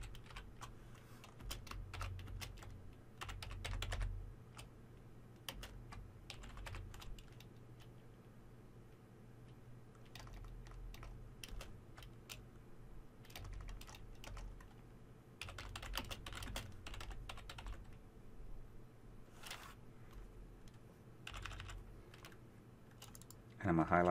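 Computer keyboard typing in a PowerPoint VBA editing session, a close, quiet stream of light key clicks in irregular bursts over a steady low hum, with a louder tap near the end.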